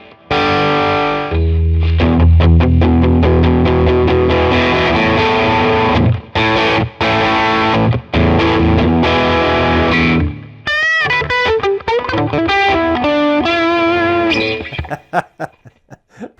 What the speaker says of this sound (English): put quite a bit of distortion